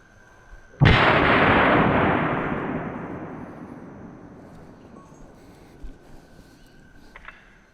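A single loud gunshot from a Winchester Silvertip or CCI Velocitor round fired into ballistic gel about five yards away cracks sharply, then rolls off in a long fading echo, followed by a few faint clicks.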